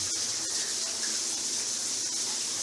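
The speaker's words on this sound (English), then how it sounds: "This is only hot water. Now it's flowing properly." Hot water runs steadily from a repaired tap in a plumbing job in China, a constant broadband rush of flowing water with no break or talk, fairly close.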